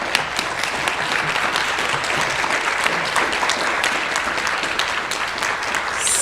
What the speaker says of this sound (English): can we please give all of our candidates a round of applause?